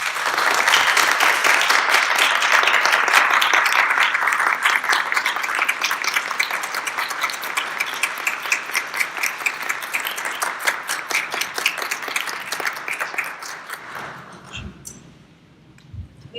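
Audience applause at a seminar tribute event, a dense sustained clapping from a sizeable crowd that stays full for about fourteen seconds before quickly tapering off into quiet.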